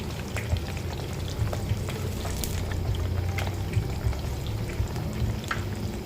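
Pork pieces deep-frying in fresh oil for crispy pork give a steady, dense sizzle with scattered pops and crackles, close and continuous throughout, with no voices.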